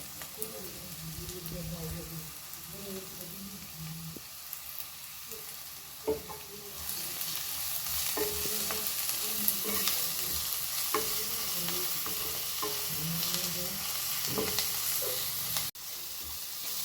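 Drumstick leaves fry in a pan while being stirred, a steady sizzle with repeated scraping and clinking strokes of the spatula, close and moderately loud, with a person talking over it.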